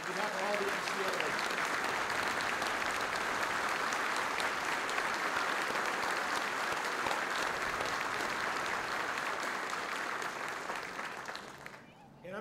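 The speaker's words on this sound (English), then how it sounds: "let's give them a round of applause on behalf of all the NCOs" Sustained audience applause at a military change-of-command ceremony for the Army War College, honoring two Operation Iraqi Freedom veterans; dense, steady clapping from a large crowd for about ten seconds before tapering off.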